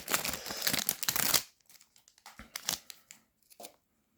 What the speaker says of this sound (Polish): Otwieramy następną paczkę, żeby nie było, że podglądam.